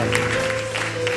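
Brief burst of congregation applause during a lively church service, a short wash of clapping over sustained music tones with faint voices.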